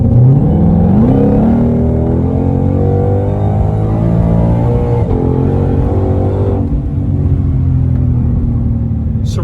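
A 2020 Ford Shelby GT500 accelerates hard through second and third gear, its engine note rising steadily in pitch with a loud, continuous roar and a brief drop at the shift before climbing again.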